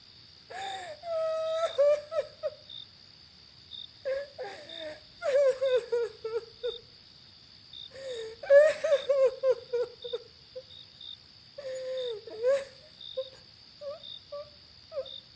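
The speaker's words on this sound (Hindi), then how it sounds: "ये रोने की आवाज कहाँ से आ रही है?" A high, wavering wail rises and falls in repeated drawn-out sobs, separated by short pauses, against a quiet background with a faint steady whine.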